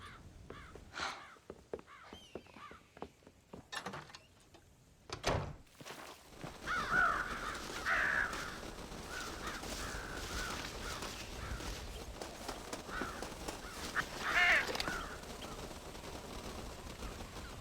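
Crows caw repeatedly around a corn silo on a farm in Red Dead Redemption, harsh calls overlapping at mid distance over a steady outdoor ambience, after a few sharp knocks and brief quiet.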